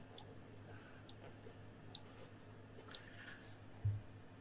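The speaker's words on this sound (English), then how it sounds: "I keep clicking on the wrong thing" Faint computer mouse clicks during an online Dungeons and Dragons session, a handful of sharp, quiet ticks spaced about a second apart against a low background hum, followed by a soft thump.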